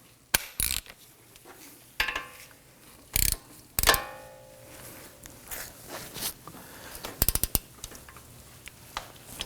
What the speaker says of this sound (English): Now I want to go ahead and torque these down to 214 foot-pounds.